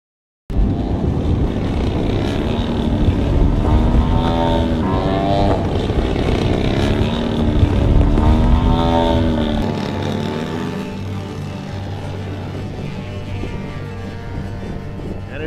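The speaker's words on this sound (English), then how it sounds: "This is a radio-controlled flying event." Buzzing radio-controlled model airplane engines at a flying event whine continuously, pitch rising and falling as they pass overhead, steady and fairly loud, easing off toward the end.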